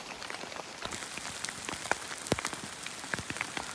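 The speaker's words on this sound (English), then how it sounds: "It's raining again." Rain falling on a mountain trail on the Alta Via 2 trek: a constant, soft hiss of drops with scattered sharper close patters and taps, fairly quiet, with no voices.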